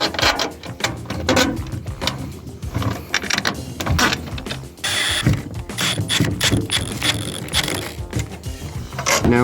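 Bolts rattle and clink as they drop into a metal trolling motor bracket, followed by busy ratcheting and fastening clatter that continues close and fairly loud with no talk.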